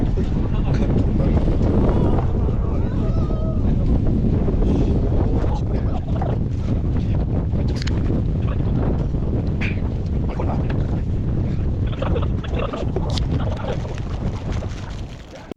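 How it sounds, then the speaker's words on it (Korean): Strong wind blows across the Jeseokbong dead-tree area on a ridge of Jirisan, a loud, continuous rumbling roar that buffets the microphone, with someone talking through parts of it. "바람이 싱싱 붑니다 지금"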